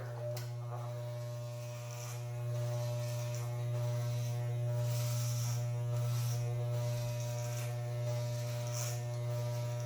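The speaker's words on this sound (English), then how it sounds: "We'll really start to trim some up right here." Electric hair clippers fitted with a number 5 guard trim hair during a self-haircut at home, giving a steady close buzzing drone throughout with slight swells as the blade moves through the hair.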